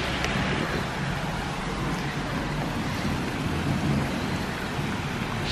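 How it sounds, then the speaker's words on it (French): Heavy downpour during a thunderstorm, a steady dense roar of rain with low rumbling thunder underneath, continuous and loud throughout with no voices. "mais il pleut à verse. Il y a de l'orage."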